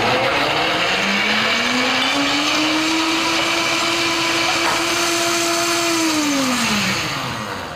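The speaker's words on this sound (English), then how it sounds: "Now I'm gonna use the pre-programmed smoothie setting because it does all the work for me" A KitchenAid blender runs a green smoothie on its preset smoothie program, a loud steady motor whir with a rising then falling pitch that holds for several seconds before winding down near the end, with no talking.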